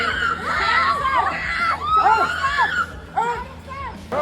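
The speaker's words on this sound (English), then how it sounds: "Pure Bollywood drama, with the sound of women screaming" A crowd of fans, many of them women, screams and shouts at Shah Rukh Khan, a loud continuous din of overlapping high-pitched voices pressing in close.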